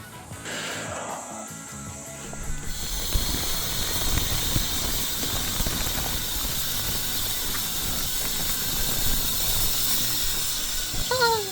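An inflatable paint booth for painting a 4x4 Toyota Hiace is blown up. A loud, steady rushing air roar with faint mechanical rattling starts after a few seconds and continues to the end.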